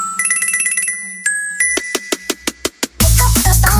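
Quantified Studio phone ringtone: a bright chiming melody of quick repeated notes, then a run of rhythmic electronic hits building to a loud, dense burst at the end, heard alone with no talk.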